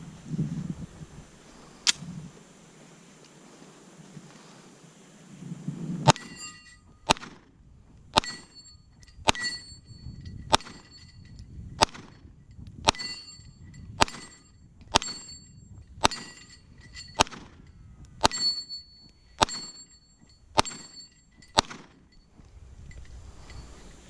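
A Heckler & Koch VP9 9mm semi-automatic pistol fired outdoors, about sixteen sharp reports in an uneven string after a quiet start. Each shot is loud with a ringing tail, and the shots come at roughly one-second intervals.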